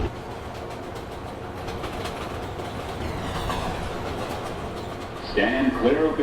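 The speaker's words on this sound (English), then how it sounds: "This is a Manhattan-bound 4 train." A Manhattan-bound New York subway 4 train rumbles along with steady wheel and track noise and rhythmic clicks, and a brief metallic squeal rises near the end, heard from inside the car.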